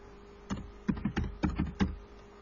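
Computer keyboard keys are pressed in a quick irregular run while Python code is typed, close and clear, with soft clicks and no talking.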